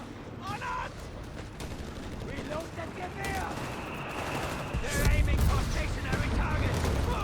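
Dense battlefield gunfire from Company of Heroes 3, rifle volleys and bursts rattling around a Weasel light vehicle, with a steady crackle that swells louder toward the end amid distant explosions.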